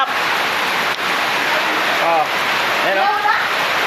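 Heavy rain pours down in a steady, loud hiss, while people speak briefly over it.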